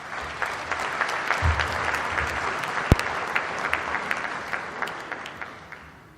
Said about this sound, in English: Let's give him another warm round of applause, please